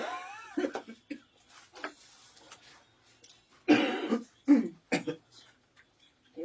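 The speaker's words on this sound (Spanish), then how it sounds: "Te voy a pegar la tos." A woman coughs and clears her throat in a few short, dry bursts close by, with quiet breathy pauses between them.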